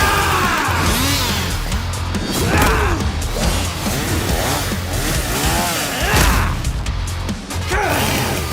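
A chainsaw revs loudly and roughly through an animated anime fight, its snarl mixed with clashing impacts, gasps and dramatic score throughout.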